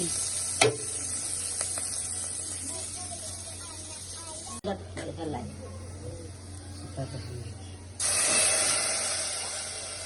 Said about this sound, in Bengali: পেঁয়াজগুলো কিন্তু আমার ভাজা হচ্ছে